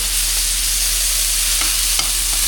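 Seasoned lamb chops frying in a hot pan just after being flipped, a loud, continuous crackling sizzle with a few sharper pops, no voices.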